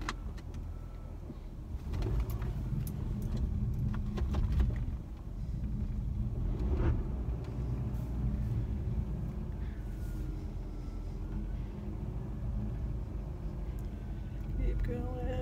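A car creeping slowly while being parked, its low engine rumble steady and close throughout, with voices talking over it.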